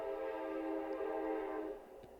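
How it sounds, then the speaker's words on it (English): A train near a station sounds its horn in a long, steady, harmonic blast heard at moderate distance. It fades in the last half second. "Can you hear the train?"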